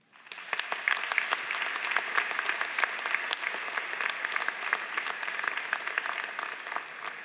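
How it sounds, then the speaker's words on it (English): At a University of New Hampshire College of Life Sciences and Agriculture commencement, applause swells up fast and holds as a broad, even roar of many hands clapping in a large space. "offer up a giant round of applause for all of those people"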